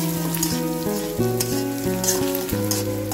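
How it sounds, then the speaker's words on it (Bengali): Bottle gourd frying in a pan with turmeric and salt, a loud continuous sizzle under a steady hum of background music, with occasional stirring scrapes. "ভালো করে ভেজে নিচ্ছি।"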